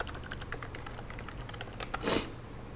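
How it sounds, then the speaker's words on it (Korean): Keys tapped on a computer keyboard while drawing lines in AutoCAD, a soft run of light clicks followed by one louder, fuller keystroke near the end, with no speech. "선택하고 키보드에 델 키를 눌러주세요"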